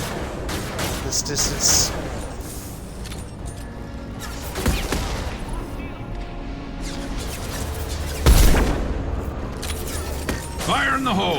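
Sniper rifle shots in Mass Effect 2, a few sharp blasts spaced several seconds apart, the loudest near the middle and end, with someone talking over the game audio.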